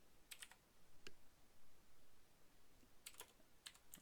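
Sparse, light keystrokes on a computer keyboard, a few quick clusters of taps with pauses between, faint and close over a quiet room hiss, no talking.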